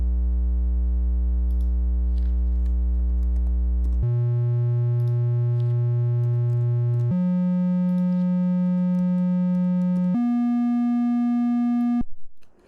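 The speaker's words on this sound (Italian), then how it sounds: "Devo mettere una frequenza che è sopra i 20 Hz. Dai 20 Hz in su noi iniziamo a percepire dei suoni, quindi provo a mettere ad esempio 60 Hz." Pure synthesized tones from a wavetable in TouchDesigner, starting with a steady 60 Hz hum, then stepping through a series of sustained pitches, each held several seconds, alone and at a moderate level.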